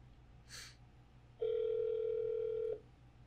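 A phone call placed to a Cisco Unity Connection IVR system: a brief soft tone, then a steady electronic ring-back tone lasting just over a second, clear against quiet line hiss.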